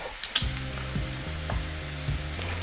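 Onions, ginger and chilli sizzle steadily in a hot pan, a close, even hiss that runs throughout, with a few soft clinks and stirring knocks near the start.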